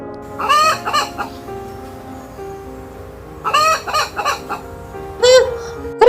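Hen clucking in a Hindi animated cartoon, several short bursts of clucks and squawks in separate groups, close and clear against a quiet background.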